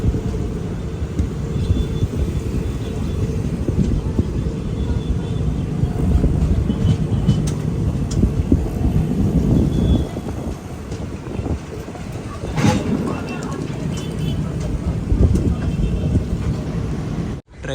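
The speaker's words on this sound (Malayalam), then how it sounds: "ട്രെയിൻ ഇപ്പോൾ ബേസിൻ ബ്രിഡ്ജ് ജംഗ്ഷൻ റെയിൽവേ സ്റ്റേഷനിലേക്ക് എത്തിയിരിക്കുകയാണ്" Kaveri Express sleeper-class train rolls into Basin Bridge Junction near Chennai, a continuous low rumble of wheels and carriage noise with wind buffeting the microphone, one brief sharp clank partway through.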